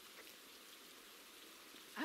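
Steady rain falls in the ghost-hunting video game Phasmophobia, a soft, even hiss that continues throughout at low level before a voice cuts in at the very end.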